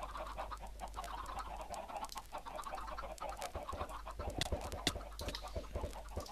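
Many chickens cluck constantly in a video game, a busy, dense flock chatter with scattered sharper clucks, heard at a low level.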